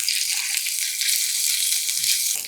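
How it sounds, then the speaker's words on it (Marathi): Crushed garlic and green chilli sizzle in hot ghee with bloomed cumin as a tempering for a jowar soup, a bright, steady crackling fizz heard up close and alone. "ही तुपाची फोडणी आहे ना, या सूपला जबरदस्त चव आणते"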